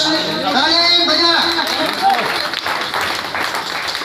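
An audience at a Republic Day celebration at a mosque in Mustafabad, Delhi, claps in a brisk patter of hands, with a voice speaking over the applause and chatter around it.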